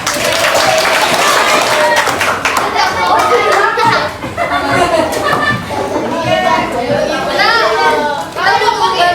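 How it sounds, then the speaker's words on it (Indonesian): Classroom group clapping mixed with children's chatter and voices, steady and fairly loud throughout, with talk and noise layered over the applause. "Tepuk tangan dulu dong."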